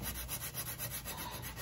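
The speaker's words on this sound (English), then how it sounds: "So we actually sanding down the material to make it level with the chest" Steady rhythmic sanding of patching compound on a cedar chest, repeated back-and-forth strokes with a gritty rasp, close and moderately loud, no voices.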